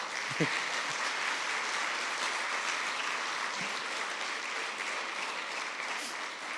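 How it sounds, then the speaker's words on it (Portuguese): Congregation applauding during a church revival service, a steady dense wash of clapping that holds evenly throughout, with a few brief low vocal sounds near the start. "Agora você aplaude."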